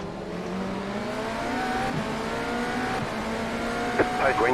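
GTE race car engines in the iRacing IMSA sim at Road Atlanta drone steadily and loudly with sustained revving tones throughout, with a few brief higher bursts near the end.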